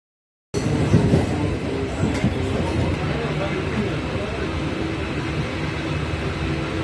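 A moving passenger train carries riders through rural Bangladesh, giving a steady, close rumble of wheels and carriage that runs unbroken after a sudden start, with indistinct voices murmuring in the background.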